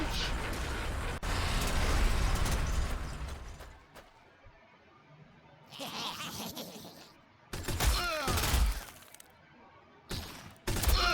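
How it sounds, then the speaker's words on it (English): Flamers shooting in the video game Warhammer 40,000: Sanctus Reach, heard as a roaring, crackling burst followed by several separate sharp blasts and crashes with quieter gaps between them. "So shooting our flamers."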